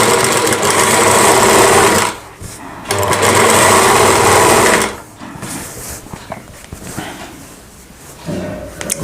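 A sewing machine runs loud and close while stitching a Rajputi suit kurti, setting an armhole, in two steady bursts of a few seconds each with short pauses between them and a quieter stretch of handling noise toward the end.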